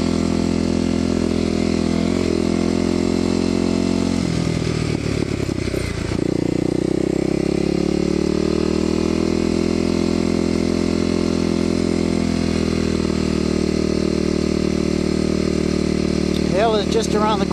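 A Kawasaki KLX250SF dirt bike engine drones steadily at close range while riding uphill, with a rattling, clattering surge partway through before settling back to an even run.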